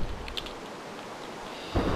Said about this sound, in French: là il mouille. Donc on va enlever la pluie